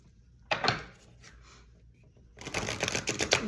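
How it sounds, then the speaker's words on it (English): A deck of tarot cards being shuffled: one quick riffle burst, a soft pause with faint handling, then a longer, louder run of rapid card flutter, close and alone. "Let me go ahead and shuffle this."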